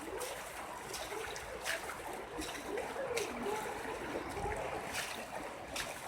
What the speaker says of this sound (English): You can see the whole road here is full of water, and this water is coming from all the way up